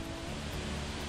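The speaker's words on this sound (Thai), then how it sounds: "ส่วนทางขวามือเนาะก็จะเป็นน้ำตกครับนี่น้ำตกตาดเงืองครับ" Tad Yuang waterfall near Paksong in southern Laos gives off a dense, steady roar of falling water, loud and close, filling the whole short stretch.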